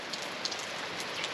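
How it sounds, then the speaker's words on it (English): Rain falling in the Central Highlands of Tasmania, a steady, close hiss of drops pattering on a surface, faint and even throughout with no voices. "You're probably not going to get it out of the rain either, so just prepare to be wet."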